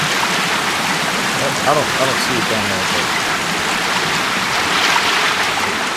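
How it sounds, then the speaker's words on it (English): A loud waterfall in the video game Sons of the Forest gives a constant rushing, hissing roar that fills the whole clip, while a person talks briefly over it. "waterfall's so loud. I hate it."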